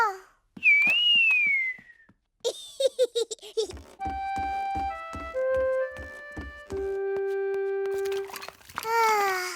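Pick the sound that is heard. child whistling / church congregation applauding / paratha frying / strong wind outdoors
child whistling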